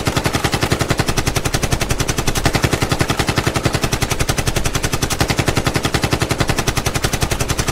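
Sustained automatic gunfire from a movie scene, a loud, rapid and unbroken rattle of shots at a steady rhythm for several seconds.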